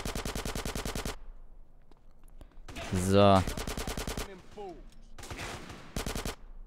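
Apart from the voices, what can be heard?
gunfire in video game GTA San Andreas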